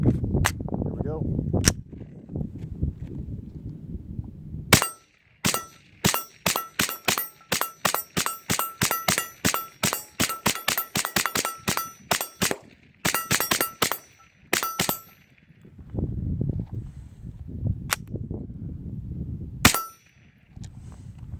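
Suppressed shots from a Kel-Tec CMR-30 rifle ring out as sharp, evenly spaced cracks in rapid strings, loud and close, with brief gaps between bursts and low rumbling handling noise before and after.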